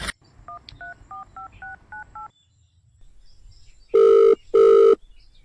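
A phone is dialed with a quick run of about eight short keypad beeps, a pause, then two loud, clear ringback tones, heard close with no talking.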